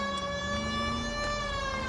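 In the video game L.A. Noire, a police car siren sounds loud and continuous, holding a bright steady electronic pitch that rises slightly, with no voices over it.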